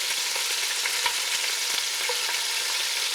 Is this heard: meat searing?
yes